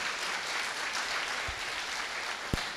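A crowd applauds warmly at a senior volunteers' appreciation gathering in New York, a dense, even wash of clapping that holds for a few seconds with a couple of louder thumps near the end.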